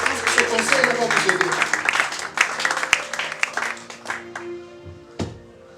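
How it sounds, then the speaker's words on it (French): A church congregation applauding and cheering for Jesus during a French-language sermon, a loud burst of clapping and voices that gradually thins and fades out. "Acclamons pour Jésus."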